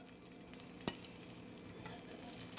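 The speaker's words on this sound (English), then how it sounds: "Alright, so we have our pork working in the pan here that we cooked earlier." Pork frying in oil in a pan over medium-low heat, a continuous soft sizzle with a few sharper crackles and pops, fairly quiet and close, with no talking.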